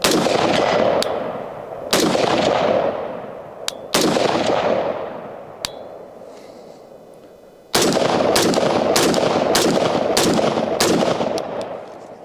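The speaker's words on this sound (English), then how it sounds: "it's been a great rifle. Very reliable. Flawlessly today. That was fun to shoot." An MK18 Mod 0 short-barreled rifle fires at an outdoor range, loud close single shots spaced a second or two apart, each with a long echoing decay, then a faster string of rapid shots.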